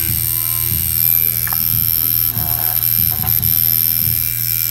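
Tattoo machine running steadily, a close mechanical buzz with a pulsing rhythm and a few brief shifts in its drone.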